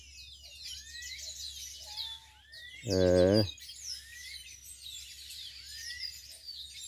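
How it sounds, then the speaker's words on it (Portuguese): Small birds chirp and whistle repeatedly, near and fairly clear, in quick overlapping calls throughout. Someone speaks one short word partway through. "ao som dos cantos dos passarinhos"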